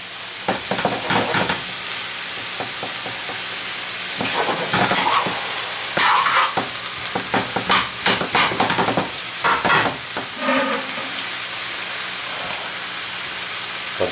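Vegetables for a lasagne sauté in a pan, a steady hiss of sizzling under repeated scraping and stirring strokes, close and fairly loud, with no talking.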